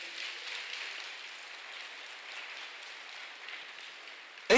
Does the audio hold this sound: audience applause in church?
yes